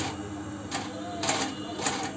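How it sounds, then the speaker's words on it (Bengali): Leather shoes being stitched entirely by hand, all-leather uppers and soles, giving a few soft rhythmic pulls and taps of thread and tool over a steady workshop background. "জুতা সেলাই হচ্ছে"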